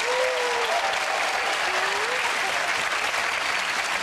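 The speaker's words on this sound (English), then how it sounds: "Give them a round of applause." A studio audience at a TV game show bursts into loud, continuous applause, steady throughout with a few faint whoops over the clapping.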